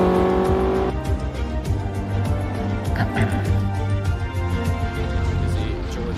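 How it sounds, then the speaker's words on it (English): A race car drifts around the Dover Raceway circuit during a Caribbean Motor Racing Championship qualifying round, its loud engine droning and tires squealing steadily up close, with a commentator talking over it throughout. "There you see Mike drifting."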